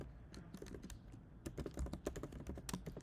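Fast, quiet typing on a computer keyboard as JavaScript code is written, with rapid, irregular key clicks throughout and a busier flurry in the second half, with no talking.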